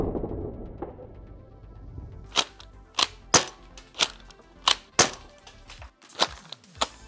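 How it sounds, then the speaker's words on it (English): Hobby-grade Nerf shotgun blaster firing foam ball shells loaded with .50 caliber foam balls: after a low muffled start, about nine sharp, loud snapping shots ring out in quick, uneven succession, close by with brief mechanical clacks between. "It takes these little tiny shells and we have loaded 3 50 caliber foam balls into these shells."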